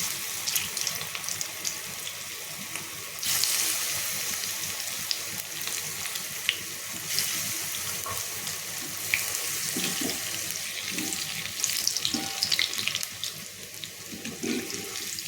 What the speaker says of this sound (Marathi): तेल गरम झालेलं आहे त्याच्यामध्ये आपण अशा वड्या सोडून तळून घ्यायचे आहेत